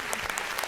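A short burst of audience applause at the Game Changer Award ceremony, with dense, fairly close clapping that lasts under a second.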